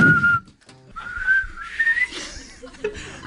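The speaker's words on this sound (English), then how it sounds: "The lips quiver. They want to whistle." A person whistles a wavering melodic line in short phrases, with breathy laughter breaking in at the start and a brief gap before the tune resumes, close and fairly loud.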